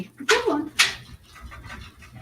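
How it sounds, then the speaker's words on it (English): Dogs outdoors during a solar eclipse give two sharp whimpering yelps close by, followed by softer breathy panting and faint rustling. "the dogs were going off"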